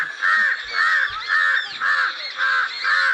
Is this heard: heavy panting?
no